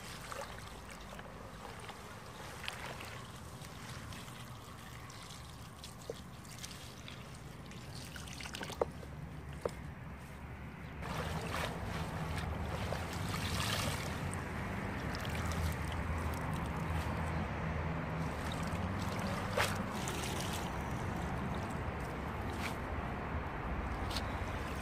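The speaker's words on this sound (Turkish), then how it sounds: "Sepetle süzdüreceğim." Washed herbs draining water in a basket, a soft trickle and patter that grows into a fuller, steady flow partway through, with scattered clicks and handling noises.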